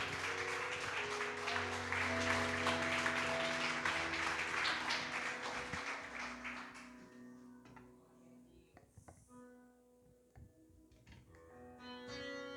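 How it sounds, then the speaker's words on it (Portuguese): A church congregation applauds during an evening worship service, loud sustained clapping with music for several seconds that gradually thins out into scattered claps and quieter moments toward the end. "Vamos aplaudir o nosso Senhor, igreja? Bem forte para Jesus."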